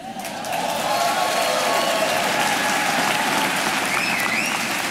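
A large audience at a leadership talk claps together in a steady, loud rhythm, the dense wash of hands filling the room and continuing unbroken, with faint voices underneath.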